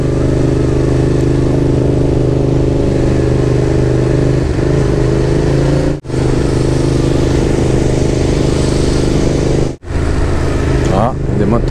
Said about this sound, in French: Ah, des moteurs là.